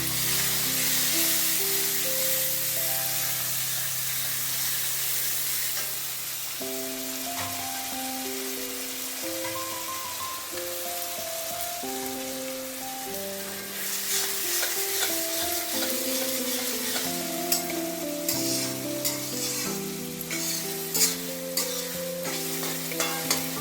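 Grated onion drops into hot oil for a Bengali tel koi dish, producing a loud, continuous sizzle with stirring strokes that grow busier later, under background music.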